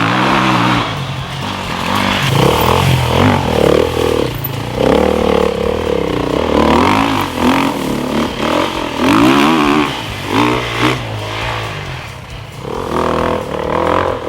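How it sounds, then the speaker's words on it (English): A 2019 Beta 430RR-S four-stroke off-road dirt bike with its stock muffler runs loud and close, the engine revving up and down in repeated surges with a steady low rumble between. "This muffler is pretty much what you would expect for an off-road bike. It's quiet, but it's not absurd"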